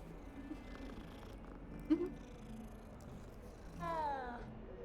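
A cat purrs softly in Hogwarts Legacy, a low steady rumble beneath game ambience, with a brief bright meow partway through and a longer rising, warbling meow near the end.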